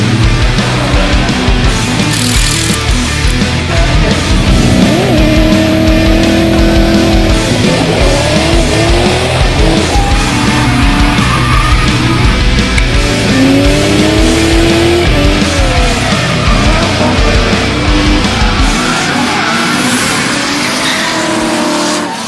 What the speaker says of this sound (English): driving the Achilles Radial Drift Team RX7